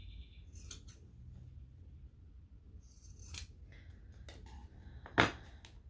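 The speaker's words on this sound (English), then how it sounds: "Scissors, and then trim off all these little corners because it'll sit nicer if we do." Scissors snip at fabric corners on a sewn bag piece, a few short crisp cuts spaced apart with one louder closing snip near the end, in a quiet room.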